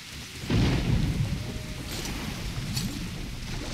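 Steady rain hisses in a scene from the game Metro Last Light Redux, with a low rumble swelling in about halfway through and staying under the downpour, no talk.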